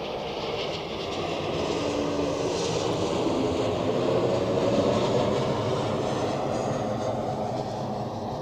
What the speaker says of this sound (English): from Stuttgart, another Helvetic Embraer